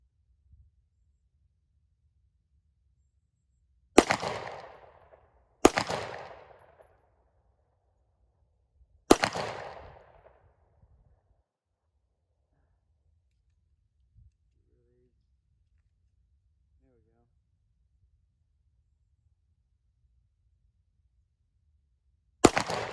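A Glock 17/19 pistol fitted with a tactical brace fires four sharp, loud shots: three spaced a couple of seconds apart early on, then a long quiet stretch before a fourth shot near the end.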